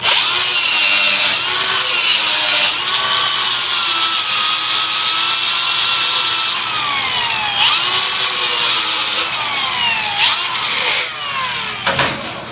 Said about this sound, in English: So I'm going to go ahead and put a little notch on it.